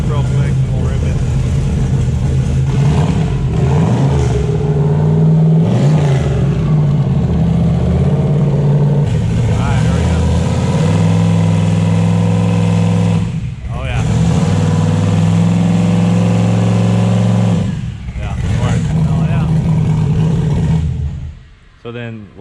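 A car engine idles and warms up, then revs in several surges, a loud, close mechanical drone that rises and falls, with a brief dip near the end and people talking over it.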